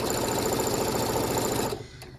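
A sewing machine stitches quilt pieces in a steady, fast mechanical rhythm, close and continuous, then stops abruptly near the end, leaving a quiet room tone.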